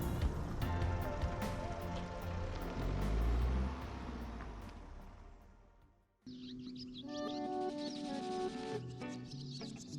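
A car driving along a road toward Placid Lake State Park, with a steady rumble of engine and tyre noise that fades out briefly, then returns with a tonal whine.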